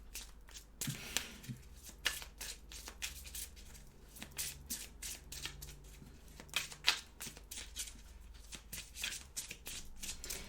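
Tarot cards are shuffled and cut by hand, a rapid series of crisp riffling flicks and soft slaps close by, fairly quiet, with no talking.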